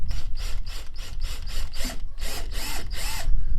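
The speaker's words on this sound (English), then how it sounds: "so we're going to drill this one first" A power drill whirs in repeated short bursts, rising and dropping in pitch as it grinds through a Fiat 500 bumper for parking sensors, loud and close.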